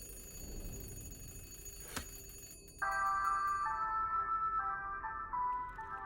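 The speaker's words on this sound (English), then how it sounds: "I think I can hear the ringing bell." A telephone bell rings in The Room Three puzzle game, a bright steady ringing tone that starts suddenly and holds loud and continuous over a faint ambient backdrop.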